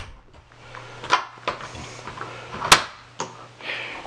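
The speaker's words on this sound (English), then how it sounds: "Close the screen, close the door." A screen door and a door close on the third floor of a three-story shack, giving several sharp wooden knocks and latch clicks spread over a few seconds, close and fairly loud, with a faint low hum between them and no talking.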